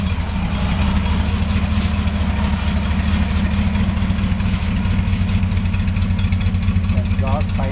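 A 354 Hemi V8 fitted with Chevy water pump and starter and exhaust pipes out both sides, idling steadily with a loud, continuous low rumble and even pulsing throughout.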